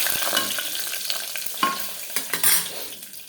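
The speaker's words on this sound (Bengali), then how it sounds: "কাজু কিশমিশটাকে ভাজা ভাজা করে নিই।" Cashews and raisins frying in a hot pan for basanti pulao give a close, crackling sizzle, broken by repeated scraping strokes of a spatula, with no one speaking.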